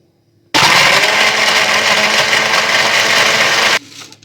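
A blender whirs loudly for about three seconds, churning peach juice with lemon juice and ice, starting abruptly after a quiet moment and stopping just as suddenly.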